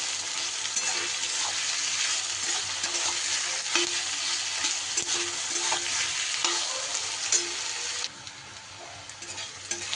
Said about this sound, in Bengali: নাড়িয়ে চাড়িয়ে পেঁয়াজটা ভালো করে একটু ভাজা ভাজা করে নিতে হবে